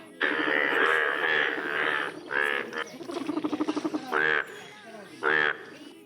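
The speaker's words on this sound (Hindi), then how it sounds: "ये देखिए मेंढक" A loud frog croaks in harmonic bursts alongside a quick ratcheting trill, recorded close and repeating several times with brief pauses.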